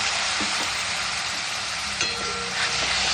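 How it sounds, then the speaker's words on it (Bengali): Spice masala with a little water fries in a pan for a Bengali chhyachra dish, giving a steady close sizzle with occasional stirring scrapes and no voices. "এবার সামান্য জল দিয়ে মশলাটাকে একটু কষিয়ে নিতে হবে।"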